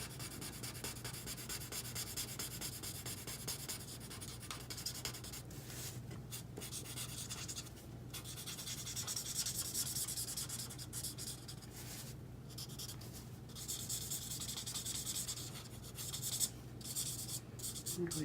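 A blending tool rubs steadily over the darker areas of a handmade viewfinder card, a continuous close scratchy swishing that keeps going for the whole stretch with only brief pauses and no talking.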